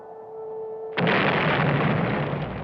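A huge explosion of atomic fireballs from the 1977 animated film Wizards: after a faint steady tone, a sudden loud boom breaks into a broad, sustained rumbling roar.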